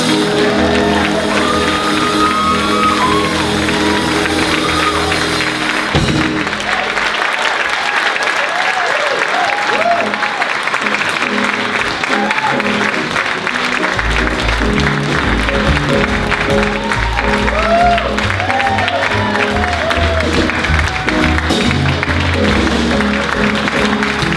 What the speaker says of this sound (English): Ladies and gentlemen, if you will give him a round of applause, Mr. Chazz Palminteri.